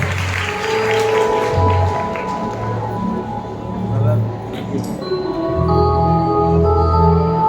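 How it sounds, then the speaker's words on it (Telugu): Congregation applauding at a New Year watch night church service, a broad sustained patter of many hands clapping while someone speaks loudly over it through the hall. "ఒకరికొక చప్పట్లు."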